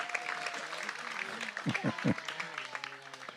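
An audience at a devotional gathering during a visit to Varsana claps steadily throughout, with a voice speaking over the applause for most of its length.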